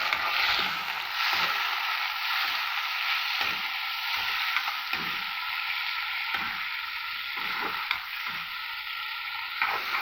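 Chopped tomatoes sizzling and frying in a pan while being stirred, a steady hiss of frying with regular scraping strokes of the spoon against the pan, close and clear, no voices.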